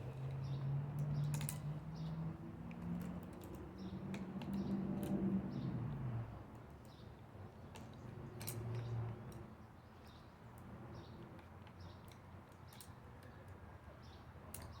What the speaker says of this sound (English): You pop open the lid and you feed your bolts in the top of it like this.